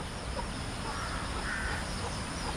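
Crows caw somewhere in a rural Philippine yard, harsh calls rising faintly out of steady outdoor background noise, moderately distant and without talk.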